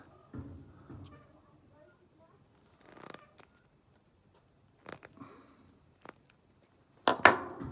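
Scissors snip off an oversized part during a DCC 170 battery cell replacement, a few sparse, brief cuts and rustles separated by quiet gaps, ending in a louder crisp snip.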